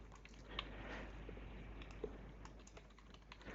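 Fingers type a user name on a computer keyboard in a quick, soft patter of keystrokes that runs steadily throughout, close up and fairly quiet, with no talking.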